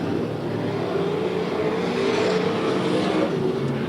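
Super sedan race cars roar continuously around a dirt speedway during a deciding race, a loud, steady engine drone with slight rises and falls as the cars pass, alone without talk.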